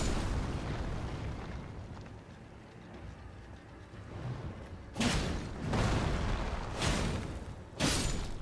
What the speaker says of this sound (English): Oh, he's gonna explode.